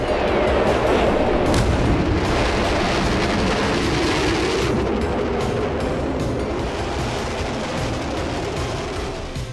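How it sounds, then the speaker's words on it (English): A bomb released from an A-4E Skyhawk in the DCS flight simulator explodes as a loud, rolling boom with rumble, fading slowly over several seconds beneath steady jet engine noise. "The computer will automatically drop the bomb when the release conditions are met"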